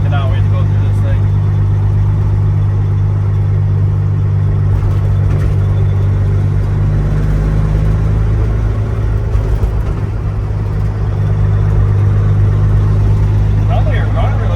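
A Peterbilt 379 truck engine idles steadily with a deep, constant rumble and hum throughout, while people talk over it.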